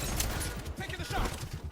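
Rapid gunfire from Division 2 play against Black Tusk enemies, a fast string of dull, muffled shots repeating steadily under game noise and faint voices.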